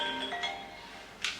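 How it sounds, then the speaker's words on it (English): A mobile phone rings indoors, its bright electronic melody chiming in quick, moderately loud tones over a steady background hum, with a short higher burst near the end. "phone is ringing."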